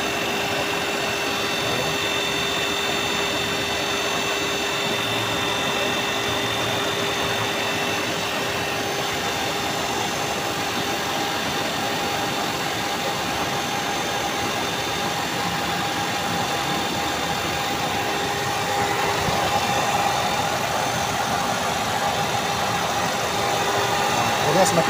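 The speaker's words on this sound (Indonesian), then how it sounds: "Nah, ini kipas nyala ya. Kipas nyala, extractornya kencang." A steady whirring radiator cooling fan runs close by alongside an idling Hyundai i10 engine with the AC on, a constant mechanical drone with a faint tonal hum.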